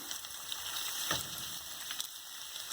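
Ackee tipped into vegetables frying over a low flame, a soft, even sizzle with a faint clatter as the pieces land, fairly quiet and close, no voices.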